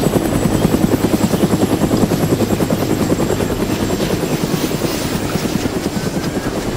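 A helicopter in the video game DayZ lifts off and flies, its loud rotor beating in a rapid, even pulse over a constant engine whine, close and steady throughout with no voices.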